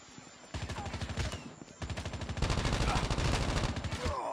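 Video game gunfire rattles in rapid automatic bursts, close and fairly steady, with a brief pause before a longer sustained volley and faint game effects behind.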